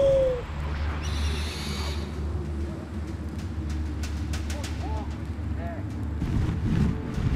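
Owl hoots sound in the video game Far Cry Primal, a few short calls rising faintly over a low steady rumble and scattered distant bangs, with a voice speaking at times.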